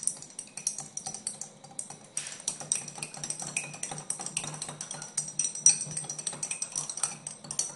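A spoon or rod stirs RU58841 dissolving in alcohol, giving soft, irregular clinking and scraping taps against a glass container that run steadily and close by, with no talking.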